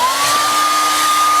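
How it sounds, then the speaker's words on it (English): A hair dryer blows steadily and loudly at close range for the whole stretch, used to dry paint on a fishing lure between coats. "Make sure you hit this with the hairdryer in between each one."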